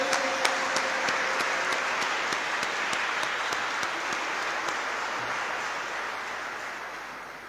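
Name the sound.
congregation applauding at jubilee logo unveiling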